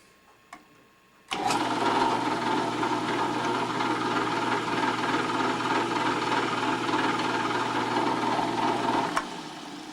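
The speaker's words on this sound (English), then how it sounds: "Spot drilling frame mounting hole number 1." A steady mechanical whir of a drill spot drilling a mounting hole in a metal frame runs continuously for several seconds at close range, starting abruptly and cutting off near the end.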